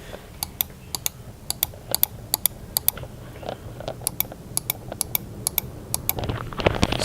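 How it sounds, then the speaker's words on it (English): Sharp, bright clicks from a Logitech G102 gaming mouse, tapped in irregular clusters against a low fan-like hum, with a louder rustle at the end. "the G102 feels more tactile and also sounds more tactile"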